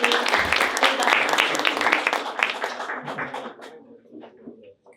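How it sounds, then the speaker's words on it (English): Audience applause at a startup showcase summit, energetic clapping that is strong at first and then tapers off with a few scattered claps. "A big round of applause"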